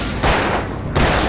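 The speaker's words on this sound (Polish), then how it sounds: "giną na dwa strzały z rewolwera." Two loud, close revolver gunshots from the Alan Wake video game, sharp broadband blasts spaced under a second apart, each trailing into a short echoing decay.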